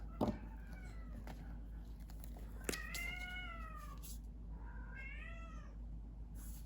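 A cat meows at a closed door: a short sound at the start, then two drawn-out, wavering meows, clear and fairly close over a quiet room hum.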